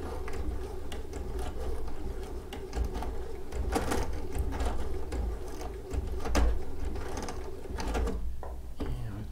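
A Baby Lock sewing machine stitches on a piece of starter cloth with a continuous close mechanical whirr, broken by irregular clicks and ratcheting taps.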